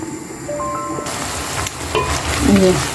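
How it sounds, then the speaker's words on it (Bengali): Shrimp sautéing in a pan, a steady close sizzle and fry with light stirring scrapes, growing a little louder toward the end. "কষিয়ে নিলাম কিছুক্ষণ চিংড়ি মাছ"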